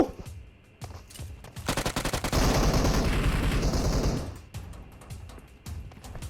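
Automatic gunfire in the battle royale game PUBG Mobile, with scattered single shots leading into a loud sustained burst of rapid fire lasting a couple of seconds before tapering back to isolated shots.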